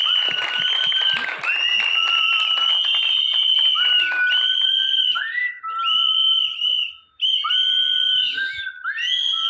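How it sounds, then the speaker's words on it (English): Loud audience applause mixed with sharp, repeated whistles at a Mumbai trailer launch event for actor Jagapati Babu, a dense crowd cheering continuously with whistles layered on top. "So big round of applause for sir."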